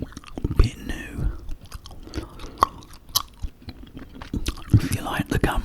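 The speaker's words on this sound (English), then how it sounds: "If you like the gum chewing," Close, wet gum chewing with smacks and clicks in an ASMR setting, mixed with soft whispering throughout.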